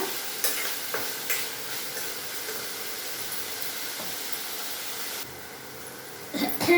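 Tomato and onion fry in a pan for a tempering, producing a steady hissing sizzle with occasional stirring knocks. The sizzle softens near the end, then a few louder clatters follow.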